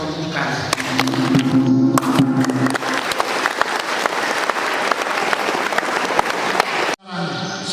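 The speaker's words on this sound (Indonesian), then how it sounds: "kita semua tepuk tangan untuk membuka." A seminar audience claps steadily to open the event, with dense hand applause from a sizable crowd filling the space for about seven seconds, then stopping abruptly, followed by a short, faint bit of room sound.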